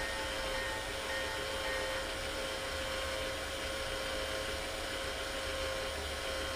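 A garden railway train runs steadily at a model railway society layout, a continuous hiss and rumble with a faint tonal whine, level and unbroken throughout with no talk.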